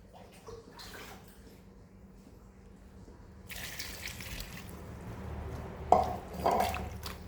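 Clean water poured into a container for making candied lime, a soft trickle and splashing that grows fuller midway, with a couple of louder splashes near the end.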